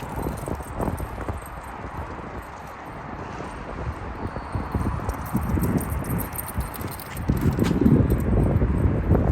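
Donkey galloping over ground after a thrown ball, a fast, rhythmic run of hoof thuds that grows louder and nearer toward the end, with rustling and light wind but no talking.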